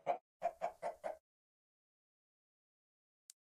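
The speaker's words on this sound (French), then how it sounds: "On peut avoir une poule de graisse." A chicken in Minecraft FTB StoneBlock 3 clucks five times in a quick, close series. A short silence follows, then a single faint click.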